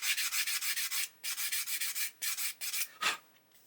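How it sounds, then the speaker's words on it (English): A sanding stick rubs away leftover remnants on a 1/8 scale Porsche 917 model car part, giving quick rhythmic scratchy strokes in short bursts with brief pauses, close and fairly loud with no talking. "and then we can take a sanding stick"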